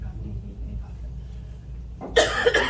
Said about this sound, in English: I start talking and then I start coughing.